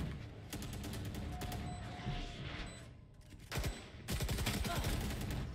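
Gunfire crackles in a Valorant college match, rapid bursts of shots first, a brief lull, then heavy close volleys toward the end, with a commentator talking over it.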